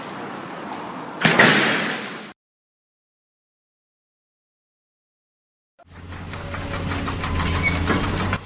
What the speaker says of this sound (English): Glass door installation ended in disaster when it slipped from the worker's grip and shattered across the floor.